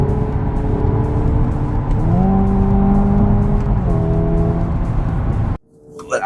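A Hyundai Ioniq 5 N electric car accelerating on a public road in Seoul, its loud simulated engine note rising in pitch and then dropping at two shifts of a simulated eight-speed gearbox, then cutting out abruptly near the end.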